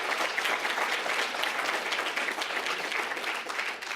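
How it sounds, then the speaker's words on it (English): An audience at a political event for a Republican attorney-general candidate gives a sustained round of applause. The dense, even clapping fills the whole stretch at moderate loudness, with no voices over it. "That deserves a big round of applause."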